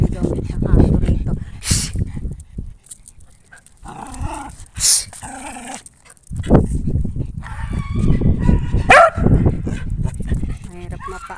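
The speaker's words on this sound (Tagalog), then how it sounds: "May aso, may aso." A stray dog barks in sharp bursts near a house as people talk, with a rooster crowing in the mix, the barks loud and irregular amid chatter.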